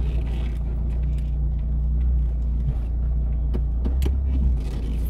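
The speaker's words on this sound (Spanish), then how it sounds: "Bueno, ahorita ya llegué a donde voy a estacionar mi carro." A car pulls slowly toward a parking spot, its engine a steady low rumble close by, with a few faint clicks and knocks scattered over the drone.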